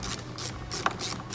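Hand ratchet clicking in repeated short bursts as a bumper bolt is backed out on a C8 Corvette, close and fairly loud with no talking.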